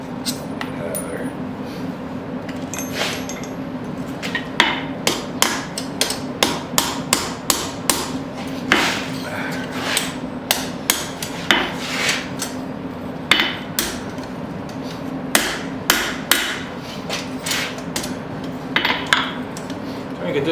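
A hammer rings on a steel horseshoe on an anvil, flattening it with a long run of sharp, irregular metallic strikes close by, against a steady background hum, with someone talking in places.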